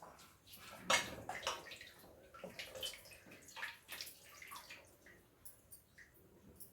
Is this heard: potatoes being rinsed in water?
yes